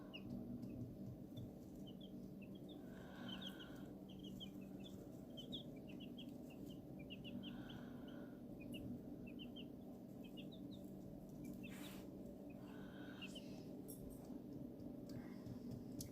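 A brood of eighteen young chicks feeds at their feeder, filling the air with frequent soft peeps and chirps over a steady low background hum, with no talk.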